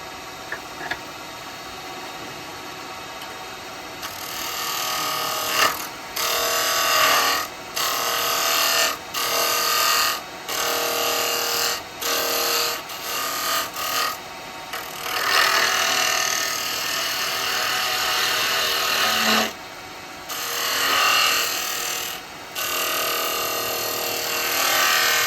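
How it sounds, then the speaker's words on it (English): Spindle gouge cutting hard yew end grain on a wood lathe, a loud scraping, whirring tone in repeated bursts separated by short pauses over a low motor hum. "I'm going to use a spindle gouge for this."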